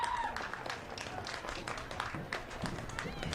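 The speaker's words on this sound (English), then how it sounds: "Have a big round of applause for these kids and their parents." Scattered applause and clapping rise from a crowd at a school football event, a soft, uneven patter heard at a distance for a few seconds.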